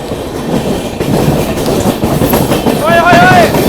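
Shiv Ganga superfast express rolling along the tracks from Banaras to New Delhi while overtaking the Gorakhpur–Anand Vihar Humsafar Express, a steady loud rumble and clatter of wheels with a brief high squeal near the end.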